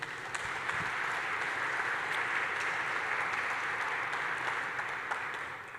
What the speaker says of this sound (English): let's get a big round of applause for SiteSource